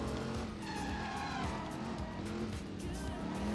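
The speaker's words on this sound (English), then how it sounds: "most of the time you're just going to hear driving anyway" A car drives with tires squealing in Driver: San Francisco, a steady engine roar with skidding screeches throughout at moderate loudness.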